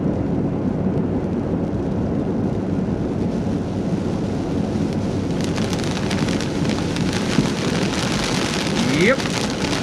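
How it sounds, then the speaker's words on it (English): Steady rain on a farm during spring planting, a dense, even hiss that fills the scene without a break, with faint distant rumbles under it. "It looks like it may be raining."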